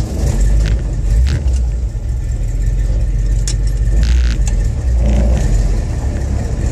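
A bagged 1954 Packard with a manual 4-speed cruises along, its mid-pitched engine droning steadily and loudly throughout with road rumble and no speech.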